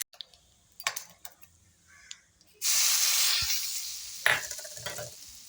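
Mustard seeds, cumin and asafoetida dropped into hot oil burst into a loud, steady sizzle and hiss, after a few light clinks and taps, with a sharp crackle flaring partway through.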